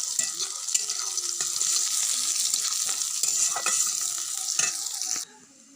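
A tempering of ginger, garlic, onion, cumin and two dried chillies fries in hot oil, a loud close hiss with scraping stirs throughout, cutting off abruptly near the end.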